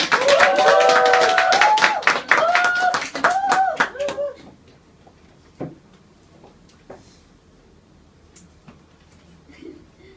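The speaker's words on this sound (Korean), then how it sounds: "큰 박수 부탁드리겠습니다" At an indoor business seminar, the audience welcomes a speaker with lively clapping and some cheering voices for about four seconds. The applause then stops and the room goes quiet, with only scattered small noises.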